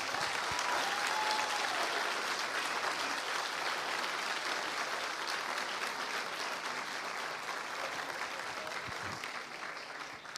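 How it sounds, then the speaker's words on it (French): Audience at a master's degree graduation ceremony applauds warmly, a dense, sustained roar of clapping from a large room that holds steady and fades only slightly over ten seconds. "Donc, vous pouvez les applaudir très chaleureusement."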